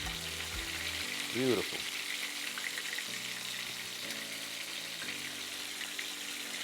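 Veal cutlets pan frying, a steady close sizzle running throughout, with music playing underneath and a brief spoken remark early on.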